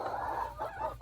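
Chickens clucking in short, busy bursts while they peck at fresh cucumbers and cucumber seeds, close by with no talk.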